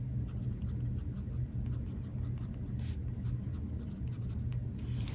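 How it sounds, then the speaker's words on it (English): A gold-nib fountain pen, a stiff platinum nib, writes smoothly across paper with a steady, soft scratch under a constant low rumble of background hum. "but it still writes smoothly. No issues with ink flow."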